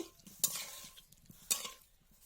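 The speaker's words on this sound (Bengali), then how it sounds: "খুন্তি দিয়ে দেখে নিলাম আলুটা ভালো করে সেদ্ধ হয়েছে কিনা" A spatula prods freshly boiled new potatoes in a pan, giving two short, close scraping clinks about a second apart against a quiet background.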